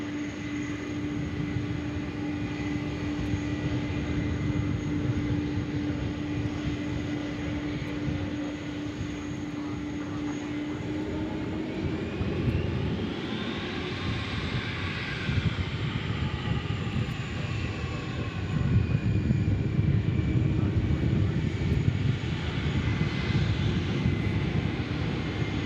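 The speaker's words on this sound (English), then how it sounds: "Here's the Dreamliner in from Philadelphia." A Boeing 787 Dreamliner arriving at DFW airport, inbound from Philadelphia, gives a steady, loud engine roar and whine that swells midway and stays heavy for the full length, without voices.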